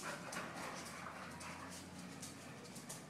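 At a kennel, dogs whimper and yip continuously amid steady background noise, with brief higher yelps in a busy, faint mix.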